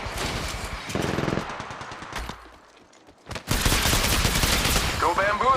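Rapid gunfire bursts in the mobile shooter Apex Legends Mobile, loud automatic volleys up close, a brief lull, then a dense sustained barrage with game effects layered on top.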